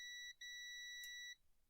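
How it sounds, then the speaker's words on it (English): A clear electronic tone beep from a device just after its wires were connected: one long, steady beep with a brief break early on, fairly faint and alone in a quiet room. "And the beep sound, it did the same when I just connected the wires."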